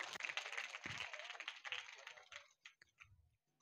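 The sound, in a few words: applause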